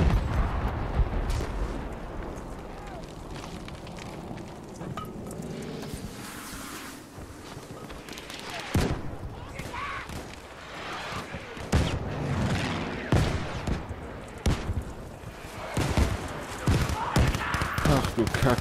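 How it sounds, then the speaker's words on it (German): Explosions and gunfire in Battlefield V: dense, continuous rumbling blasts and sharp cracks pile up loudly across a chaotic battlefield, with voices mixed in. "hier explodiert alles"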